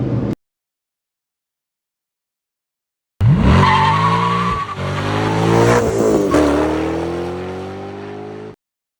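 A Porsche 911 revs to about 4,000 rpm, then its clutch is dumped for a hard launch: a loud, close engine roar climbing through the gears with sharp tire squeal, after a brief blip and a few seconds of silence.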